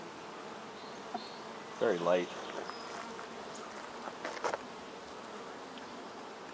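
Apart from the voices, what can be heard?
honeybees buzzing around a hive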